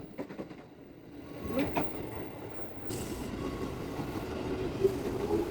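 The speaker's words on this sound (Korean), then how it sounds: "저는 기차역에 도착했습니다." A train rumbles and clatters past at a railway station, with rhythmic clicking wheels and a rising hiss partway through; no one speaks.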